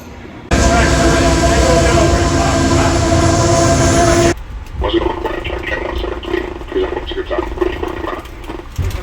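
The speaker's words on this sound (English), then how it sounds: "And now I'm back on the train." Aboard an Amtrak Amfleet car, a loud steady roar of rolling wheels and rushing air fills the carriage, then cuts abruptly to a quieter rumble with rattles and knocks as the train keeps moving.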